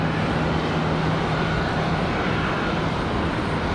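An airliner's jet engines roar in a steady, loud, broadband rumble during takeoff at Charlotte Douglas International Airport, a continuous powerful noise with no gaps.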